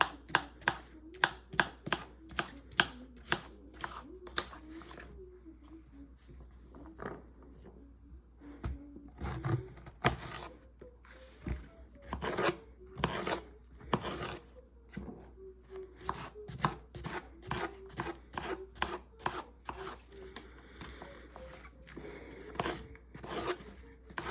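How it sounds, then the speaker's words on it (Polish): A large zucchini has its seed cavities scraped out in a kitchen: a long run of sharp, rhythmic scraping strokes, close and crisp, coming in quick bursts with short pauses between them. "Jeżeli mam bardzo dużą cukinię, możemy pozbyć się gniazd nasiennych."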